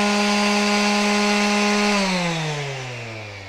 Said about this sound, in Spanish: Quiero que observen cuando se apaga el movimiento que hace el disco.